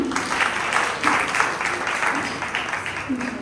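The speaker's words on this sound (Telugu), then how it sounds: "వీళ్ళిద్దరిని మనం చప్పట్లోకి ఆహ్వానిస్తాము" A congregation at a Sunday church service livestream claps steadily to welcome two members, with a voice speaking over the applause.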